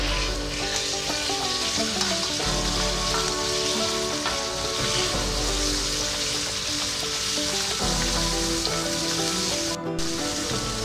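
Pork hits softened onions in a hot pan for Filipino adobong sitaw, giving a loud, steady, close-up sizzle with crackling spatter throughout.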